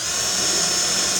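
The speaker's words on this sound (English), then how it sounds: "He's gonna start drilling through those holes." A loud, continuous high-pitched whine of a power drill running steadily without pause, close by, drilling through holes in angle iron.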